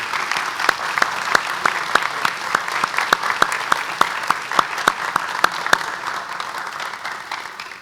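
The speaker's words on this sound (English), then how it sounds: "Can we give these ladies and gentlemen one more round of applause?" A banquet crowd at a high school recognition dinner gives a sustained round of applause, dense clapping with sharp individual claps standing out, steady and loud before tapering at the end.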